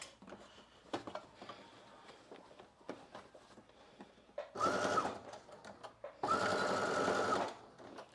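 A sewing machine stitches across the strap of a slip dress in two steady bursts of running, with quieter handling and fabric rustle before and between them.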